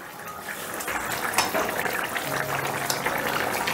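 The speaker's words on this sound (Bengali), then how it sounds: "আমি বলগুলো আর টমেটোটা একটু বয়েল হবার জন্য 5 মিনিটের মতো ঢাকা দিয়ে দিলাম" Soybean balls simmering in tomato gravy in a covered pan on a raised gas flame, a steady close bubbling and hissing boil that holds evenly throughout with no voices.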